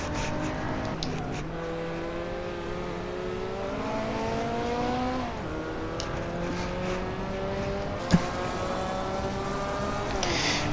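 Race cars in a racing series pass in a tight line, their engines droning and rising through gear changes, steady and fairly loud with overlapping revs and one sharp click.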